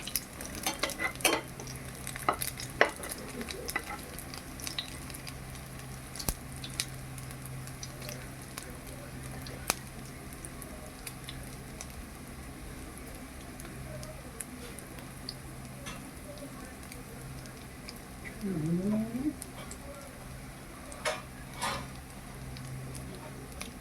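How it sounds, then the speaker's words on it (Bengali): Bread chops deep-fry in hot oil at a normal gas flame until reddish brown, giving a faint, steady sizzle broken by occasional ticks and utensil taps. "এভাবে করে লাল লাল করে ভেজে নেব।"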